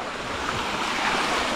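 A river in the rural countryside flows, a steady broadband rush of water with some wind noise on the microphone, continuous and fairly loud.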